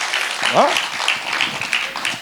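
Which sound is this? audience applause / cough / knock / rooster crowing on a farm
audience applause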